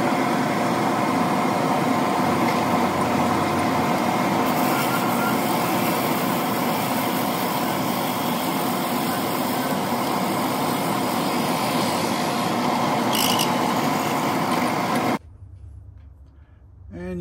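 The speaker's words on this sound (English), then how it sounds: "next thing to do is to drill these out. For that, we're going to use the 4-jaw chuck in the lathe" A loud, steady mechanical whir of a metal lathe with a 4-jaw chuck drilling out pen blanks runs for a long stretch, then cuts off abruptly near the end into near quiet.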